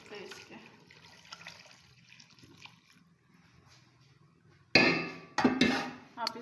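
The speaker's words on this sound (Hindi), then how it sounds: "अब इसमें मैं नीम गर्म पानी डालूँगी।" Lukewarm water is poured into a pot of cooking saag, a sudden loud splashing gush arriving after quieter kitchen clatter and a voice, then pausing and pouring again.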